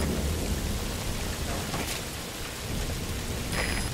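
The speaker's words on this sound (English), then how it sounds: "rain just won't let up" Heavy rain pours steadily in a video game, a dense, even hiss with a couple of faint low thunder rumbles partway through and no talking.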